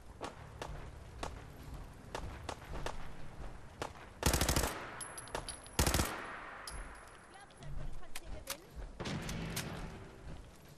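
Gunfire from the video game Fallout 4: scattered single shots and bursts of automatic fire, with louder blasts in the middle, over footsteps and quieter game ambience.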